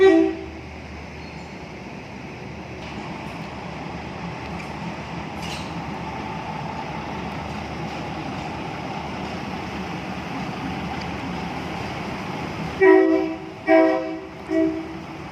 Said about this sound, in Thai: ก็ขบวนที่ 407 ก็กำลัง ออกจากชานชาลาที่ 2 เพื่อไป จอดไว้ ฝั่งนี้นะครับเพื่อทำความสะอาดนะครับ